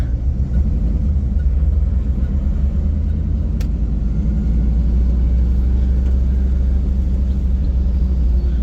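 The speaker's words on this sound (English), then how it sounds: "Let this truck go by us real quick." A truck passes close to a stopped 1995 Chevrolet Camaro Z28, a loud steady low rumble of road and engine noise that holds for several seconds with no talking.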